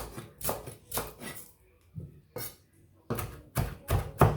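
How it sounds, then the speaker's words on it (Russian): Fresh herbs being finely chopped with a knife on a board for a French-style omelette, heard as close, crisp bursts of rapid cutting strokes in several separate runs with brief pauses between them. "Сейчас я мелко нарублю зелень"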